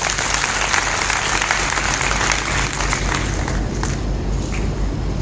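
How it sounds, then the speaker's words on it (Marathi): Loud, dense applause from a large audience at an awards ceremony honouring meritorious students, a steady roar of clapping filling the whole stretch without a break. "ज्याला वाक्य कळलं त्यांनी एकदा जोरदार टाळी वाजवा"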